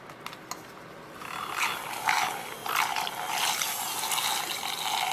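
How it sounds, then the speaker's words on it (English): Pumpkin sweet cream, made with vanilla, being whipped with a frother: after a few faint clicks, a buzzing whir starts and pulses in several bursts, near and fairly quiet, with no talk. "So let's froth this up and see if we get more of that like foamy consistency."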